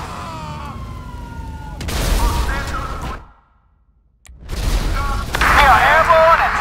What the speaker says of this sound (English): Citizens reporting a vehicle explosion close to,